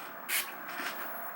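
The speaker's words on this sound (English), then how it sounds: "So I'm gonna spray my brush" Two quick hissing spritzes from a spray bottle onto a makeup brush, the first louder, against a quiet background.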